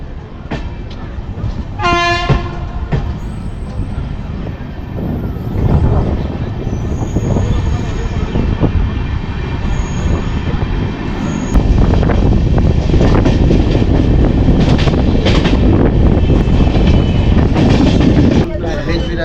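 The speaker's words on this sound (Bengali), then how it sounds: "আমাদের ট্রেন ছেড়ে দিল এই বোলপুর শান্তিনিকেতন স্টেশন থেকে" Amrit Bharat Express train pulling out of Bolpur Shantiniketan station, its horn blaring loudly near the start, followed by rumbling wheels and clattering carriages building steadily as it gathers pace, heard from on board.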